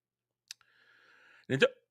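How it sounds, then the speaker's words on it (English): One sharp, voiced hiccup sounds up close after a faint click and a quiet pause, with no speech around it. "Ooh, hiccups."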